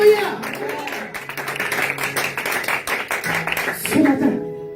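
A church congregation claps steadily in quick rhythm throughout, with voices calling out and acclaiming over the clapping in a lively worship setting.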